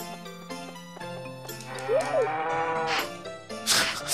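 Cows in the Nintendo 64 farming game Harvest Moon 64 give a low, rising-and-falling moo over the game's looping background music, with brighter game sound effects coming in toward the end.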